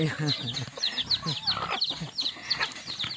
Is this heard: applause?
no